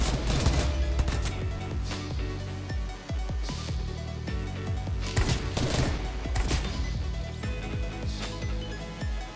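Dense bursts of gunfire from the Fortnite video game, loud and nearly continuous, with sharp repeated shots and rapid volleys layered over in-game sound.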